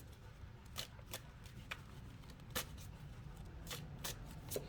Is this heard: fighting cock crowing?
no